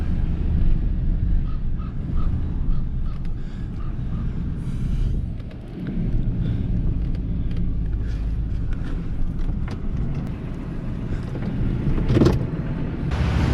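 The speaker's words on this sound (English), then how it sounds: "I'm just gonna rock it between reverse and drive." A 2002 Ford F150 pickup with a brake problem idles and shifts back and forth between reverse and drive, a steady low engine rumble with small surges, close by and alone, with a brief sharp knock near the end.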